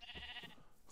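Sheep bleat in a barn, a short wavering cry heard alone and fairly faint.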